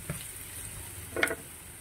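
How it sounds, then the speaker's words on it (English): Onions, garlic and ground chili fry in a pan, giving a quiet, steady sizzle with a brief louder crackle midway and no talking. "While we are frying these ingredients, the onions, garlic, and grind chili"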